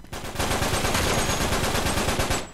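Rapid automatic gunfire from a machine gun in the Uncharted 3 co-op Shade Survival mode, a dense loud burst of shots that runs steadily for about two seconds and then stops.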